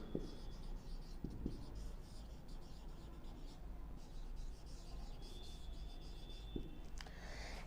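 Chalk or marker scratching across a board during a biology lesson on autotrophs, a steady rubbing, scraping texture with brief bursts, recorded close amid a low background hum.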